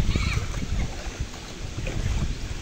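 Floodwater rushes across flooded garden land in Achchuveli during Cyclone Fengal, a noisy, churning wash of water with splashy surges and some wind buffeting, heard up close.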